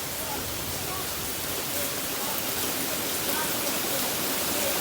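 Steady heavy rain pours during a thunderstorm just after small hail has fallen, a dense, continuous hiss with no breaks.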